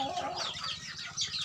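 Chickens on a small farm cluck softly in a scattered, overlapping chorus, faint and somewhat distant.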